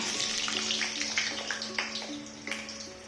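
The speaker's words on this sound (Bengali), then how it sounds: "তেলটা গরম হচ্ছে তেলে এখন আমি আলুটাই ছেড়ে দেব" Salt-and-turmeric-coated potato pieces go into hot oil for frying, producing a continuous bubbling hiss with scattered crackles and pops, near and fairly loud, with no talking.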